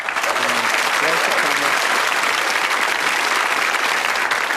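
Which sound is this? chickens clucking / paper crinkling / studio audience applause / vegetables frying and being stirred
studio audience applause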